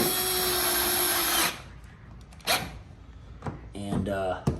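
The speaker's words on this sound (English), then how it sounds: "just putting these last few screws in for the cover" A power drill drives screws into the battery cover of a RYOBI electric riding lawnmower, a loud steady whir that stops abruptly, followed by short clicks and a brief second burst, heard up close.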